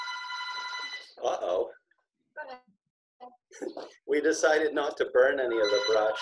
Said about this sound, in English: that was our phone ringing